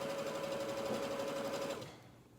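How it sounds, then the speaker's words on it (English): A sewing machine stitches quilt fabric strips for a lap quilt top, a steady close mechanical whir that runs for almost two seconds and then stops. "So we're gonna go ahead and sew."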